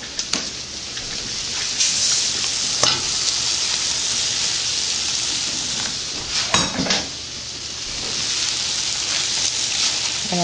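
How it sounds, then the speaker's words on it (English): Noodles are stirred in a sizzling frying pan for a Pad Thai-style dish, giving a continuous close hiss with intermittent scraping and clattering stirs. "I'm going to just gently mix it and stir it and try to incorporate the flavors with the noodles"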